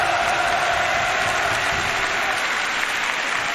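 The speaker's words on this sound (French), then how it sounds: "vous pouvez les applaudir" Dense, sustained applause from a large crowd at a League of Legends esports match in France, a steady wash of clapping that holds loud and even from start to finish, with faint voices mixed in.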